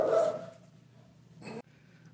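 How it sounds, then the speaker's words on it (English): A dog barks once loudly nearby, then a shorter second bark follows after a quiet pause. "And then my dog starts barking, and it's messing up everything."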